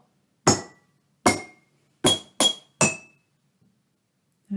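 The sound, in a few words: rhythm tapped on glass jar tuned to G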